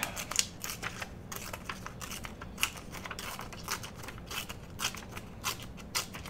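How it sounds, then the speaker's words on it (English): Printed vellum paper being torn by hand, giving a series of sharp, close crackling rips in uneven bursts over about six seconds, with no talking. "vellum has a mind of its own when you start tearing it"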